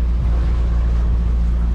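Steady wind buffeting a phone microphone aboard a sailboat, a dense low rumble with broadband rushing noise throughout, loud and continuous, with no voices.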